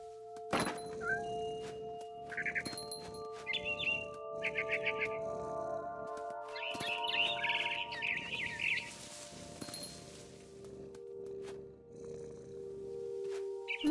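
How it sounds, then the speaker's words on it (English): A frightened bird in a video game gives high, rapid chirps and twittering over a low, steady purr-like rumble and occasional thumps, with a sustained tonal hum underneath. "I tried to be quiet, but the bird was really scared."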